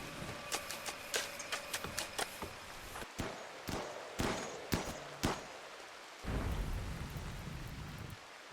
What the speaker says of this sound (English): Glad the rain kicked up.